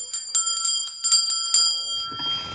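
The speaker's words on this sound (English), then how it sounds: "I'm gonna ring the bell" A bell rings in a quick, bright series of close dings during a Pillage Overload episode, sounding rapidly then trailing off into a fading ring as a faint rustle rises.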